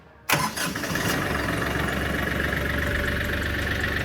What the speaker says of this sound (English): This tractor will start without you in the seat, without it in neutral, and without it having a parking brake on.